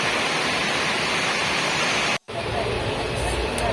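Heavy rain while boarding a train, with water pouring down from the train: a dense, loud, broadband rushing wash, cut by a brief silent gap before continuing slightly softer.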